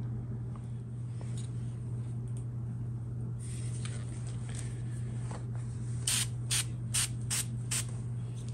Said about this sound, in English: So I'm gonna start using the steel wool and the window cleaner.